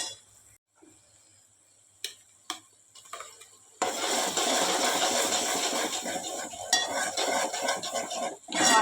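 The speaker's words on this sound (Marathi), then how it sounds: "त्यामध्ये आता आपण वाटण टाकून घेऊयात" Ground masala paste for misal goes into a pan of browned onions and is stirred, a loud, steady sizzle rising suddenly about midway after a few quiet spoon clinks, then continuing with scraping.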